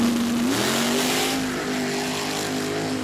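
A mud truck's loud engine roars and climbs in pitch as it launches hard off the line in a drag race, then holds a high, steady drone.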